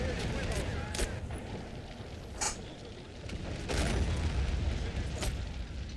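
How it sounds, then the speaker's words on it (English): Booming blasts in a Men of War 2v2 tank battle, including a grenade going off, come as several sharp bursts over a constant rumbling background, with commentary talk running alongside. "See the grenade? Landed right in the Oswin."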